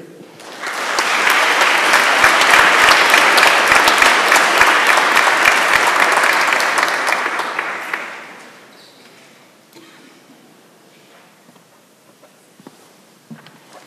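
An audience at an awards ceremony gives loud, dense applause for about seven seconds before it fades into scattered claps and quiet room noise.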